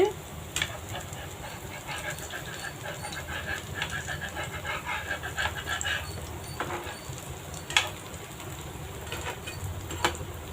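Homemade evening snacks deep-fry in hot oil on a low flame as they are turned over, a steady close sizzle broken by occasional clinks of a utensil.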